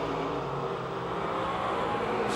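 Race car roaring down the straightaway at Pennsylvania Motor Speedway, a loud steady engine drone filling the whole stretch with no break.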